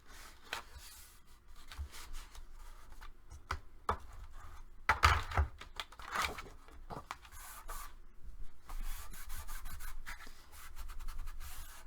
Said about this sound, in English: Then I like to continue to burnish them over and over to make sure it lays down flat.